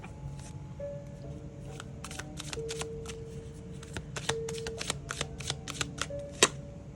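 A deck of tarot cards is shuffled up close in quick bursts of crisp flutters and snaps, ending with one sharper slap, over a faint steady background hum.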